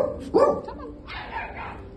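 A big dog gives a single close, loud bark, followed by softer whiny vocal sounds that could be a dog or a person.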